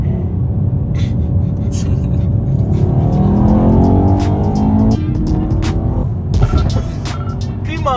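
A car accelerating hard with a steady rising engine drone and tire noise, a young driver's new black Mercedes E63S, heard continuously with people talking over it.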